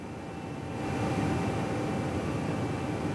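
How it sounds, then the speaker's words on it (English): Air conditioning hum in the room sound of a Royal Albert Hall organ sample set: a broad, steady hiss-like hum with faint constant tones, swelling slightly after the first second and holding level, with no voices. "Like an aircon going."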